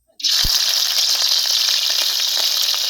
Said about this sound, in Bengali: তেল গরম হয়ে গেছে, এবার মাছটা দিয়ে দিই।